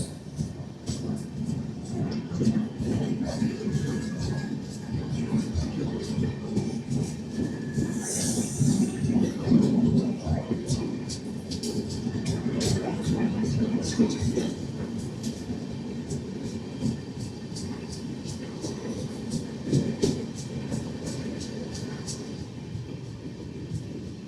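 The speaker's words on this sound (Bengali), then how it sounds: "Crossing Kanchankanya express." The Kanchankanya Express crosses near Rampurhat Junction station, a steady rumble and clatter of rolling coaches with rhythmic wheel beats and a brief high squeal, moderately loud and continuous.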